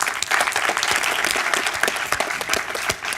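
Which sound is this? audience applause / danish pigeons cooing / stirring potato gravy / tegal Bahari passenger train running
audience applause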